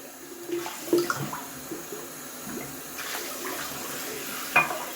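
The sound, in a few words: running tap water while washing up after shaving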